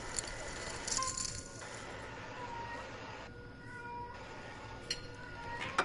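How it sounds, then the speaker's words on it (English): A pet cat meows faintly in the background of a quiet room, a few drawn-out cries with light rattling, soft and somewhat distant. "If you guys can hear my damn cat again in the background"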